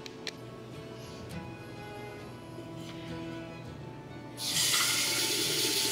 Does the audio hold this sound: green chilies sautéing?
no